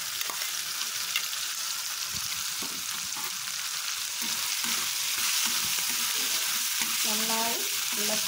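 Crushed bird's eye chili, garlic and ginger sizzle steadily in a hot pan while being stirred, a loud, close frying hiss with soft scraping and clinking of the spoon throughout.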